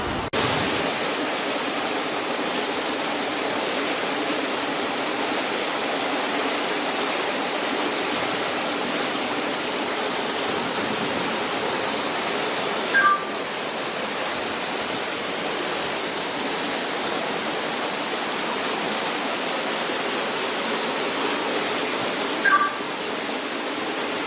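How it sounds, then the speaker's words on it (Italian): Rushing floodwater sweeping a car away outside a home roars as a steady, loud, broadband torrent that continues unbroken throughout, with no voices. "trasportata via dall'acqua"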